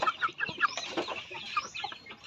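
A small flock of native chickens clucks and chirrs close by, several quick overlapping calls over a couple of seconds, with no speech.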